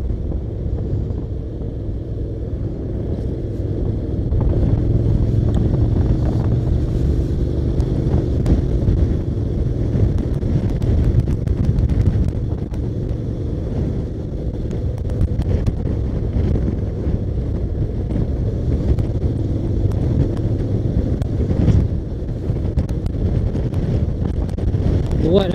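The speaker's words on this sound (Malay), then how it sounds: "Kuat angin sini, melayang-layang badan." Strong wind sweeps across Tasik Banding lake during a motorcycle ride, a loud, constant roar and buffeting against the microphone with deep rumble underneath, lasting the whole stretch without letting up.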